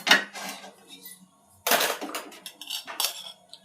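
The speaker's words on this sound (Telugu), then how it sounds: "స్టవ్ వెలిగించుకొని గిన్నె పెట్టుకున్నాం." A cooking pot is set down on a lit stove while vegetable biryani is being made, giving a couple of close, sharp metallic clanks and clinks, with quieter shuffling between them.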